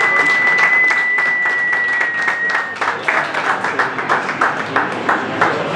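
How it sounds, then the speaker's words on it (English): A crowd at an arcade event gives a round of applause for the arcade team, a dense wash of clapping that thins into scattered individual claps. A thin high tone lingers early on. "round of applause for them"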